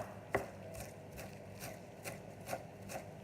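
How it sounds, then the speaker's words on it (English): Knife chopping through mushroom stems on a board while preparing a vegan mushroom, zucchini and spinach risotto: a sharp close cut followed by a steady run of lighter rhythmic chops, no talk. "I'll just chop off those stems"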